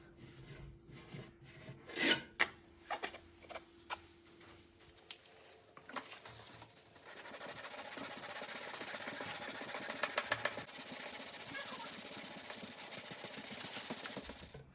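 A Tama Artstar II drum shell plug is sanded with 3D-printed sanding blocks, first in short, separate scraping rubs, then in a continuous, even rasping stroke that is quiet and close.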